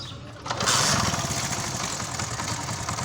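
A Honda CD 70 motorcycle engine is started without a key: quiet, then a sudden catch about half a second in, settling into a steady, close putter of idling.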